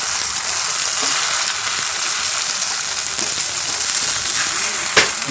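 Chowmein with egg and no vegetables fries in a pan, giving a steady, loud, continuous sizzle that holds evenly throughout, with a brief sharper crackle near the end.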